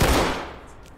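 Gunfire in the tactical shooter Ready or Not, a loud burst of shots at the very start that then decays into a fading echoing tail, with no talk over it.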